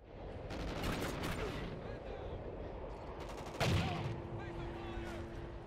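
Gunfire in the multiplayer shooter Call of Duty: Ghosts: rapid bursts of automatic fire and a sharp blast, heard over steady game ambience with voices mixed in.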